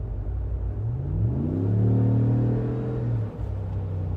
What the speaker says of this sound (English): I just wanted to do a real quick video in the 2019 Ram Rebel with the Flowmaster exhaust